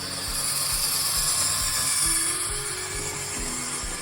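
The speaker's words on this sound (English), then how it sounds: "with the locomotive being so quiet, that tells me it hasn't really been run very much at all." An Airfix Caerphilly Castle model locomotive in mint condition runs quietly on its track, giving a steady soft whirring hum with a faint rhythmic clicking of wheels, alone and without talk.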